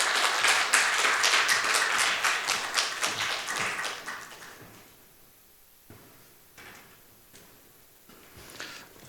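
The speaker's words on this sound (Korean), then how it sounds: "우리가 환영한다는 표시로 박수로 목사님을 맞이해 주셨으면 좋겠습니다" Church congregation clapping to welcome the pastor, a burst of many hands applauding loudly that fades out over a few seconds, then a handful of scattered soft taps and knocks in a quiet room.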